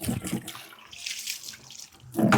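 Running water splashes and gushes in short bursts while a car is washed outdoors, close and moderately loud, with a stronger surge at the end.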